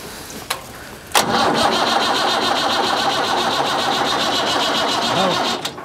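A huge antique farm tractor engine cranks briefly and then catches, settling into a loud, steady mid-pitched running chug that cuts off near the end.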